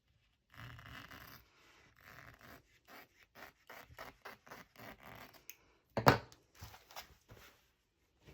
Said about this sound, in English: we are going to take and cut again.